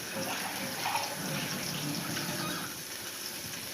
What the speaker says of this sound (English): So I'll pour the hot water in.